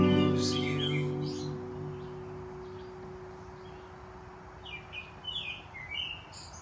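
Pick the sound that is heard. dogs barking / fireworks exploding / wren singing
wren singing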